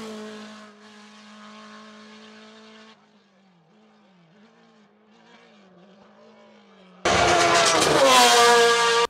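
An Alfa Romeo 155 race car at the Coppa Paolino Teodori hill climb: a steady engine tone with shifting pitch, then a sudden loud, close, harsh blast of revving engine at full power near the end.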